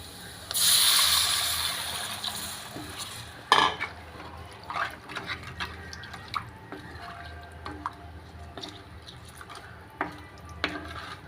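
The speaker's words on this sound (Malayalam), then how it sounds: "ഇതിലേക്ക് നമുക്ക് ഒരു ബൗള് വെള്ളം ഒഴിച്ചു കൊടുക്കാം" Water splashes into a cooking pan, a brief pouring rush of a bowlful of water followed by scattered drips, clinks and small stirring sounds close by, while making a bottle gourd dish.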